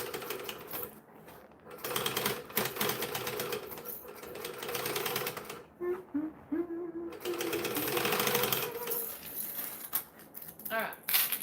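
A sewing machine stitching a fabric kangaroo toy runs in several bursts of rapid, steady whirring, pausing briefly in between, close and fairly loud.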